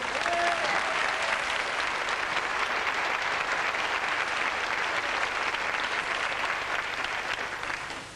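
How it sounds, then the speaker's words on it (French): A TV game show studio audience applauds in a broad, sustained roar of clapping that runs loud and unbroken throughout, with faint voices underneath. "Vous rendez compte tous ces applaudissements pour vous, Fred"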